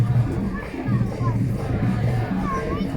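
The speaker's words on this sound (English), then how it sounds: "There's a decent crowd watching what looks like" Crowd gathered at the Souq Waqif Park fan zone in Doha, a steady murmur of many voices and babble, with children's voices faintly mixed in throughout.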